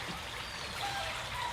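A creek running along a riverbank in a backyard, water flowing and trickling steadily, soft and fairly near with no other sounds over it.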